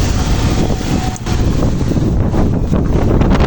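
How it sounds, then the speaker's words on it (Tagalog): Strong wind gusts buffet the microphone in a loud, continuous roar that barely dips for the whole stretch, with no talking. "Medyo mahangin ngayon, no?"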